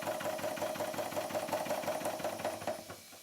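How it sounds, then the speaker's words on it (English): A vintage model steam traction engine with worn bearings and slightly off valve timing chugs steadily with a fast mechanical clatter, fairly faint and close, slowing slightly near the end. "the engine ran, well, fairly well considering its condition"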